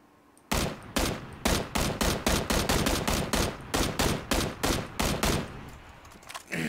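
A long burst of automatic gunfire in PLAYERUNKNOWN'S BATTLEGROUNDS, with about twenty loud rapid shots in an even rhythm, heard alone without talk.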